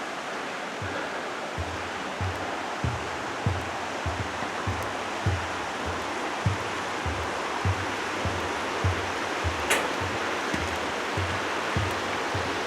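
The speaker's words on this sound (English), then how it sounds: "And High Point Creek is flowing pretty well this morning for the time of year it is." Creek water at High Point Creek flows steadily beneath a timber bridge with big beams and bolted railings on Tiger Mountain, a broad constant rush with faint regular low thumps underneath.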